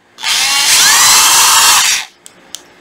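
A cordless National power drill running in hammer mode whirs loudly and steadily for about two seconds, then cuts off, followed by two small clicks.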